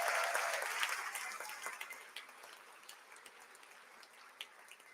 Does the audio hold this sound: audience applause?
yes